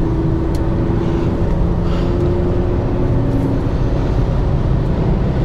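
A Peugeot 406 V6 with a manual gearbox pulls hard under acceleration, its engine note a loud, steady drone that rises slightly in pitch, heard from inside the car.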